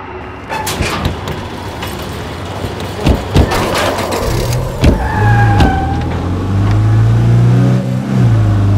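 A car driven through the post-apocalyptic world of the game State of Decay 2, its engine running steadily with rising revs and low rumble, punctuated by occasional knocks and thumps, no talking.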